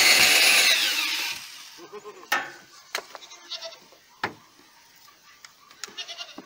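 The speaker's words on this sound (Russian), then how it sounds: "Соня, ты такая наглая коза" Goats in a village barn let out a loud, close, drawn-out bleat at the start, followed by scattered knocks, rustles and shuffling clicks.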